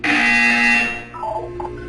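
A loud electronic buzzer sounds once in the video game Portal 2, a harsh sustained tone that cuts off after about a second and leaves a fading hum and faint beeps.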